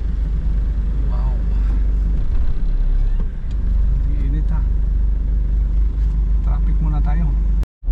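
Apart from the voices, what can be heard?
road traffic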